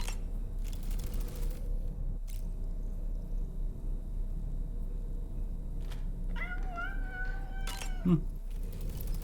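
A cat with wings meows in the video game Death Stranding 2, a couple of short rising meows late in the clip over a quiet game ambience with a few soft clicks.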